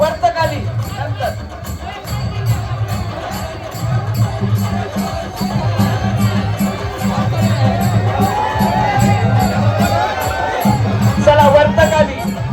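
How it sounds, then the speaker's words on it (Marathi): Large outdoor crowd at a Dahi Handi festival in Govathane, a steady roar of cheering and shouting with loud drumming or music beneath, sustained throughout. "एकदा जोरदार टाळ्या होऊ द्या"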